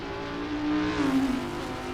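VEMS R10 race car in a racing game climbing a hill, engine droning steadily with a rising revving tone that swells briefly at the middle before easing, heard alone and at moderate distance.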